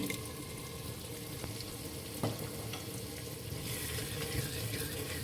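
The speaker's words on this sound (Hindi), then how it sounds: "अदरक लहसुन थोड़ा सा भूनने के बाद मैं इसमें ऐड करूँगी 2 टमाटरों की प्यूरी" Tomato puree hitting ginger and garlic sautéing in a pan, a soft steady sizzle and bubbling with a faint clink, quiet and close, no voices.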